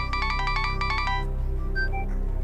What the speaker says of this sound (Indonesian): Gue telepon Jendra deh